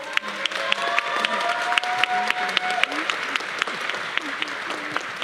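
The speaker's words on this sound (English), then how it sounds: "Let's have one more round of applause for these amazing students." Applause at a university neuroscience commencement ceremony: a sustained, fairly close wash of many hands clapping, with distinct individual claps standing out in an uneven rhythm and some faint voices underneath.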